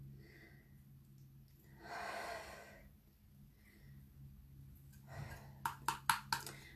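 A person inhales audibly, a soft breathy intake swelling and fading near the mic, followed later by another breath and a few sharp quick clicks, with no talk.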